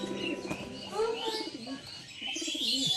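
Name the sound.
Giribaz and Medraj pigeons cooing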